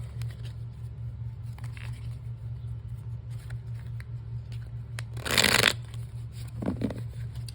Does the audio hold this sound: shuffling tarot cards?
yes